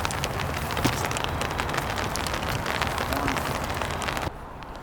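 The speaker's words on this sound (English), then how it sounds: "Right now it is raining." Rain falling beside a main river on a wet fishing outing: a dense, steady patter of drops on surfaces and gear, close and fairly soft, with faint water noise beneath before the sound drops away at the end.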